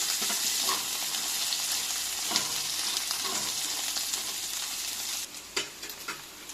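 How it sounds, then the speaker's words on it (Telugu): Coconut, cardamom, cinnamon and cloves frying with ginger garlic paste in a pan, a loud continuous sizzle close by, with a few stirring scrapes and a softer patch near the end. "అల్లం వెల్లుల్లి పేస్ట్ వేగినాక కొద్దిగా కొబ్బరి, 2 యాలక్కాయలు, ఒక రవ్వ చెక్క, 2 లవంగాలు వేసుకొని వేయించుకోండి."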